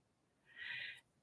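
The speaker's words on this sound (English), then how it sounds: "there's a big bird out there" Bird calling outside at night, probably an owl, one soft drawn-out hoot rising and fading, faint and distant, alone without any voices.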